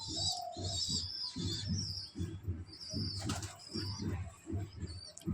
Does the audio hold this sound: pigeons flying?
yes